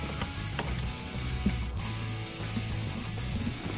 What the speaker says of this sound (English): I'm gonna go ahead and loosen it up a little bit more because I know it's gonna need it a little bit more